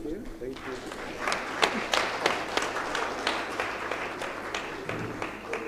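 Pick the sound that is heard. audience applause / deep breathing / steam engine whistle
audience applause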